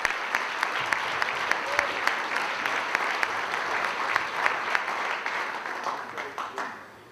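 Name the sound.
audience applause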